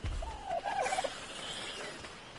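A bird call in Ark: Survival Evolved sounds as a short warbling, gobble-like burst followed by a fainter trailing call, close and clear over a soft ambient game backdrop.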